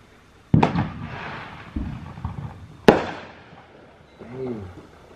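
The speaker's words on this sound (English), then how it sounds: "Watch the fireworks. Just watch everything going off." Fireworks at a Fourth of July event go off in two sharp, loud bursts with crackling tails and a smaller pop between them, and a voice talks faintly near the end.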